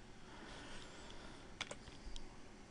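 Typing on a computer keyboard, a quiet steady patter of keystrokes with a few sharper clicks, close and alone with no talking.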